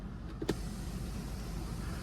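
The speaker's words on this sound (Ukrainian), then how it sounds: "Панорамний дах у нас також спрацьовує, все відкидається, закидається." Inside a Honda CR-V 2.2 diesel, the panoramic sunroof motor hums quietly at moderate distance, with a brief mechanical click and whir near the start over a steady low cabin drone.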